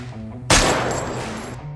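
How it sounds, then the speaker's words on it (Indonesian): A gunshot in the action film Extraction 2, a single loud, sudden blast with a long reverberant tail, over a low sustained musical score. "Tyler menembak kepalanya"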